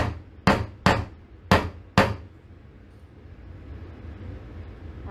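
Hammer driving nails into a board for a snowflake string art piece, five sharp strikes in a quick irregular run followed by a quiet room.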